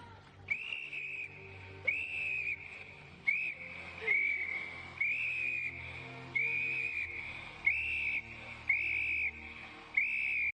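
A repeated whistle blown in a recreated movie scene, sounding in about nine clear, sustained shrill blasts at a steady rhythm, each roughly half a second to a second long, loud and up front over a faint low background.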